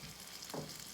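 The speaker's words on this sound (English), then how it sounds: "See, I got all the pieces cooking right now." French toast pieces sizzle in a hot pan on a stove, a steady close frying hiss with a brief scrape or stir in the middle.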